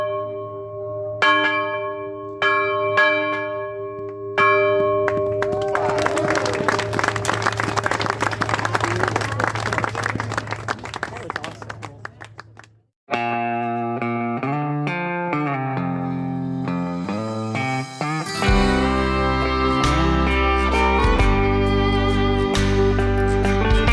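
A bell rung three times makes a loud, sustained metallic ringing that repeats in a few strokes, followed by music with no talking.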